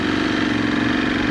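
The engine of a 2018 Ducati Scrambler 1100 motorcycle rumbles loud and close on a demo ride, a steady throbbing drone with no speech over it.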